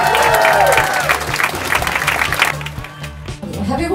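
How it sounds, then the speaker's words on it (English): Audience applause at an open mic night fills the room, loud and dense at first, with cheering and crowd voices mixed in and music underneath, then thinning out toward the end. "A round of applause for TEDxWanChai Women,"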